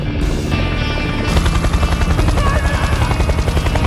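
A helicopter arrives for a criminal's escape in a movie scene: a loud, close, continuous rotor chop with a rhythmic throb and engine whine, after a brief lighter opening.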